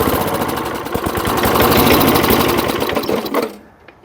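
A 46-year-old vintage lawnmower engine runs steadily with a rapid, slightly uneven putter, loud and close, then cuts off abruptly near the end.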